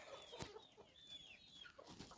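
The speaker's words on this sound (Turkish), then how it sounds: "Ee, Legbar horozumuz." A Legbar rooster clucking softly in short, scattered bursts, fairly faint, with light background noise and no talking.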